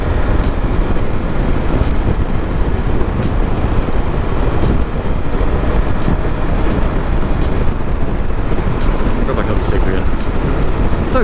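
Steady, loud wind roar and engine drone of a 2023 KTM 1290 Super Adventure cruising at 70 mph in fifth gear, with a slight rattle, continuous throughout with a rider talking over it.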